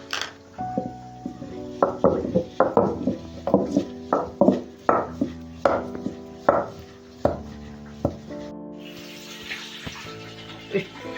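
Ingredients pounded in a stone mortar for a Malenadu-style home recipe, a steady series of sharp ringing thuds about once a second, close and clear, with faint water sounds toward the end.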